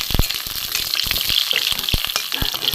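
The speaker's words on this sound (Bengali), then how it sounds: "এখানে দেখুন কয়েকটা পটল আমি বীজ ছাড়িয়ে নিয়েছিলাম, এগুলো আমি এখন ভেজে নেবো।" Seeded pointed gourds (potol) frying in hot oil, a close, dense crackling sizzle with sharp pops and a few spatula scrapes, no talk.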